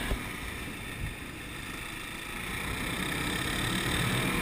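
A 2009 Kawasaki KLX250SF supermoto motorcycle on Shinko 244 dirt tires rides along, its engine a steady close drone mixed with broadband wind rush, holding a fairly even level throughout with no voices.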